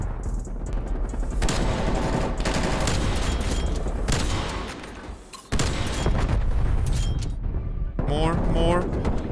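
Rapid submachine gun fire from the Kylo SMG in Call of Duty, loud bursts of automatic shots with mechanical clatter running nearly continuously, mixed with game effects and a short pause near the middle.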